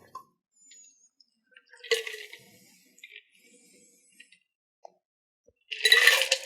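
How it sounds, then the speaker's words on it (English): Bloody Mary mix strained from a cocktail shaker into a glass comes in two short splashy pours with faint drips, soft clinks and quiet gaps between them. "So just like before, we're going to strain it in."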